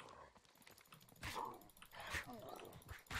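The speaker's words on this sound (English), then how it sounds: "Come on, big dog. Come on now." A dog in the survival game SCUM, snarling and barking in short aggressive bursts over a low, uneven background, with faint talk mixed in.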